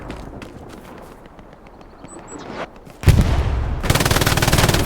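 Machine gun fire in the competitive Hell Let Loose match, a quiet stretch with faint steps that suddenly breaks into a loud, close, rapid sustained burst of automatic fire lasting to the end.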